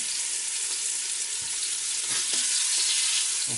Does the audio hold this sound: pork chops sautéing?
yes